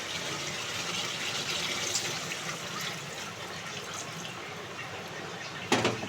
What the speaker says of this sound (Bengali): এবার এর মধ্যে জল ঢেলে দেবো